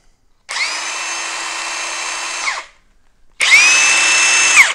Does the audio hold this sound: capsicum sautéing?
no